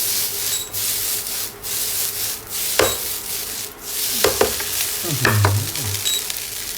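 Egg fried rice is stir-fried in a hot pan, with a steady, hissing sizzle under repeated scraping and clattering strokes from a spatula, close and fairly loud.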